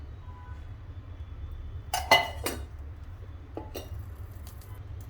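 A small metal tempering pan being handled before oil goes in: a quick cluster of bright clinks and clatters near the middle, then two softer taps, over quiet room hum.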